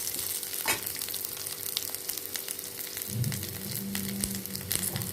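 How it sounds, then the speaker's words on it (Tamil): Urad dal and onions sautéing in a pan for pirandai chutney, a steady close frying crackle with occasional stirring scrapes, no voices. "இந்த உளுந்து வெங்காயம்லாம் நல்லா வதங்க நல்லா டேஸ்ட்டு கொடுக்கும்"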